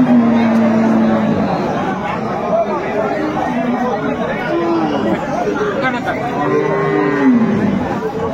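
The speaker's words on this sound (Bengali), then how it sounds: "কেমন দামে শাহিওয়াল জাতের এবং দেশি জাতের গাভী এবং বাছুর গরুগুলো বেচাকেনা হচ্ছে" Sahiwal and local-breed cows and calves low over a loud, dense hubbub of chattering voices at a busy outdoor cattle market, with several drawn-out moos rising above the crowd.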